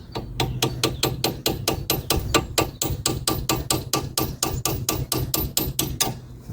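Light hammer taps strike a Land Rover part right beside the brake pipes, a fast, even run of sharp close knocks, roughly three per second, with no talking.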